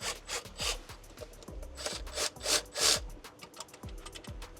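A pipe is twisted onto a Land Rover Discovery 4 engine block fitting, giving a series of close, gritty rubbing scrapes in uneven strokes, quiet and without talk.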